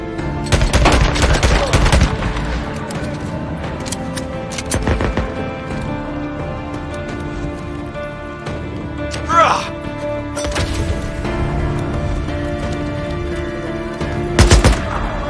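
Gunfire in the video game Days Gone: bursts of sharp shots and rapid clusters at the start, then sparser loud reports mid-way and near the end, over a droning background bed, with a voice talking in between.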